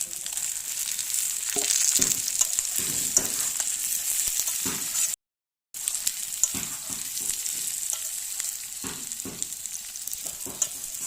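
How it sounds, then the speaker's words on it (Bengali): Pointed gourd fries with ginger paste, cumin paste and chili, making a steady close sizzle with repeated scraping stirs at irregular intervals and one short silent gap midway. "দিয়ে সুন্দরভাবে নেড়ে চেড়ে নেব। আর পটল দিয়ে দেব।"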